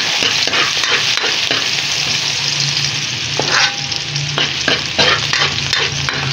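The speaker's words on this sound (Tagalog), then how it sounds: "Lagay na po natin yung ating bawang at sibuyas" Garlic and onion fry in a pan with a steady, loud sizzle, punctuated by scraping stirs and clicks of a utensil against the pan throughout.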